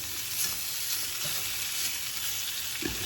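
Thin-cut liver and onions frying in a pan, a steady close sizzle with soft crackles and an occasional faint scrape running through the whole stretch, no voices.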